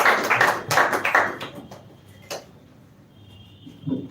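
Audience applause at a spoken English class speech event, a burst of clapping over the first second and a half that thins to scattered claps and fades out.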